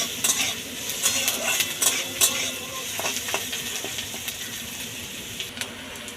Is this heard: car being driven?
no